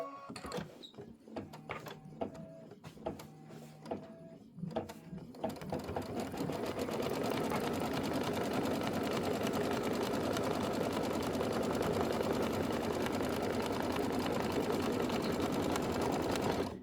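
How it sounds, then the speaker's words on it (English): A sewing machine stitches a quilt block for a Kimberbell Mystery Wallflower quilt, first in a few short start-stop bursts, then running in one long, steady, close-up hum of rapid stitching with no talking. "This is going to be 6 minutes of stitching."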